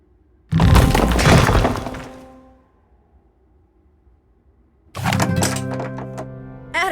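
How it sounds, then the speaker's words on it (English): A video-game explosion blasts through a bedroom wall, with one sudden loud crash of breaking debris that rumbles for over a second and fades, then a second heavy crash and crumbling a few seconds later. "I had to blast the wall of your bedroom to get out of a vault that Vanbury installed under the cemetery"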